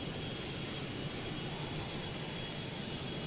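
Steady engine drone of a Mustang aircraft taxiing in the MSFS 2020 flight simulator, a constant broadband roar that holds at an even level with no voices.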